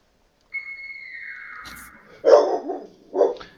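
A dog barks twice up close, a sharp bark then another, following a steady high tone that fades out.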